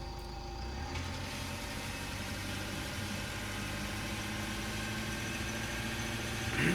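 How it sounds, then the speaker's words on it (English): Tractor engine in a farming video game runs steadily at an even, droning idle-like rumble throughout, with faint beeping overtones, rising slightly at the very end. "This tractor's actually much faster."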